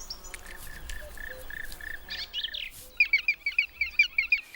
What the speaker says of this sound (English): But the woodpeckers have a far noisier and larger family to feed.